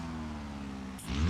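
A car engine in BeamNG, built by AI, idles with a steady low rumble, then is started up or blipped and revs sharply near the end.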